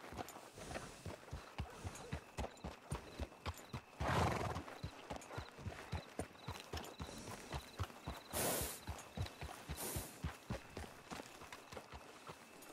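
Horses in the video game RedM walk and trot with steady rhythmic hoof clip-clops, several horses together, with a couple of loud neighs or whinnies breaking in partway through; faint and fairly distant overall.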